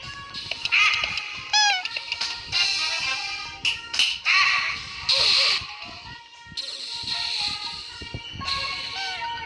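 Several high, drawn-out meows sound close by, repeating irregularly among taps and clicks and brief bursts of other noise.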